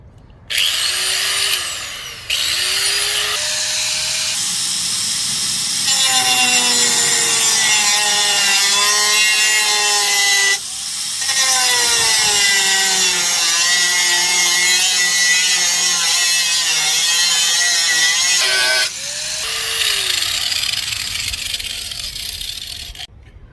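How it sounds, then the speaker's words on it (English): Angle grinder cutting into a rear bumper to fit custom backup light pods, a loud sustained whine with rising and falling pitch as the disc bites, broken by a few brief pauses between passes. "I had to tweak it over and over again with the grinder."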